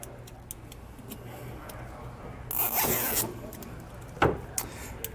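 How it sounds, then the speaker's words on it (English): Zip tie ratcheting tight around a looped air hose while fitting a Firestone Air Command air compressor to a 2021 Ford, a brief close-up rasping burst over quiet background, followed by a sharp click. "put a zip tie around it for now"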